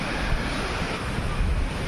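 Surf washes steadily onto a beach shore, a continuous loud roar of waves mixed with strong wind buffeting the microphone.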